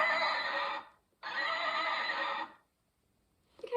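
A plush rocking horse toy with a wooden base plays a recorded neigh twice, two bright whinnies back to back with a short gap, fairly faint and with no talking.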